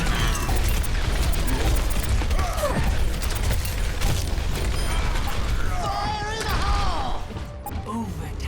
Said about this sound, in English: let's check out some of Overwatch's shooting